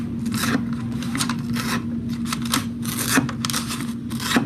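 Spring-loaded adaptive scissors cut through material in a steady series of close, crisp snips and rasping strokes, roughly one cut every half second, over a low constant hum with no talking.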